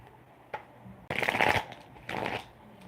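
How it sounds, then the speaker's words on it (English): Shuffling a deck of cards at close range: a single snap, then a loud rippling riffle lasting about half a second, a short gap and a second shorter riffle, with no voices. "let's shuffle"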